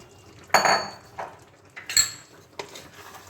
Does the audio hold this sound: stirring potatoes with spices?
yes